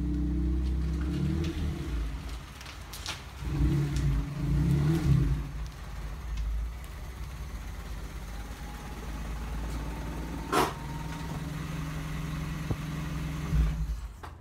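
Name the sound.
Honda Civic engine running rough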